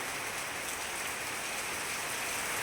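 Heavy rain pours steadily outdoors, a dense, unbroken hiss of drops hitting surfaces at an even level throughout.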